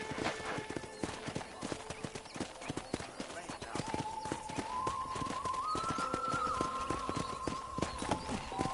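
Horse hooves clip-clop in a quick, steady rhythm while riding on a ranch, close and continuous, with a tonal, melodic line and voice-like sounds layered over the hoofbeats.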